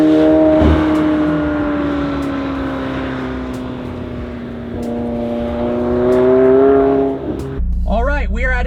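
A McLaren 720S supercar launches hard from a standstill, its engine roaring loud and close with rising revs through quick gear changes, and a voice exclaims near the end.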